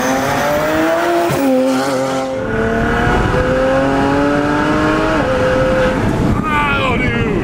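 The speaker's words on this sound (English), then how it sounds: "It's quiet for a second, yeah. and then this turbo spools," A 600 hp BMW Z4 street car built as a DTM tribute, its N54 turbo engine rising in pitch under hard acceleration. The engine drones loud and close throughout, with the turbo spooling up and people talking over it.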